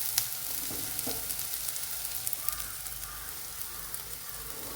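Onions and chopped tomato sautéing in a pan, a steady soft sizzle with occasional light stirring clicks, fairly quiet and close, no voices.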